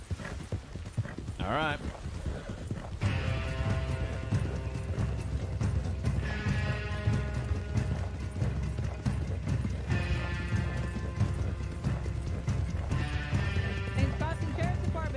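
Steady rhythmic clip-clop of horse hooves running in a video game, continuous and prominent, with a voice briefly speaking over it and some background music.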